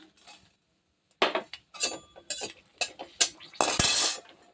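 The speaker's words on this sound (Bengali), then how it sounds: "তেলটা একটু নাড়িয়ে দিই, শুকনো লঙ্কাটা দিয়ে দিচ্ছি" Metal utensil scraping and clinking against a pan in short bursts while stirring dried chillies in hot oil, with a brief sizzle near the end.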